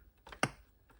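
Single keypresses tap on the keyboard of a Micron ZX Spectrum clone computer, a couple of quiet clicks followed by one sharper, louder keystroke, alone in a quiet room.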